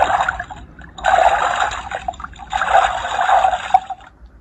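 Water sloshing and trickling in two bursts as a pig is washed with soap and a brush on a farm, moderately loud and close, with no voices.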